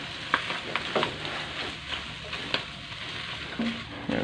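Pork liver, heart and spleen being stirred in a pan for Ilocano bagisen, a steady sizzle of frying with occasional scrapes and clinks of the spoon, close and moderately loud with no talking.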